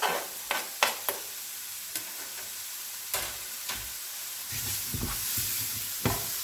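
Chopped garlic frying in a pan with a soft, steady sizzle, punctuated by sharp utensil taps and scrapes, heard close without any speech.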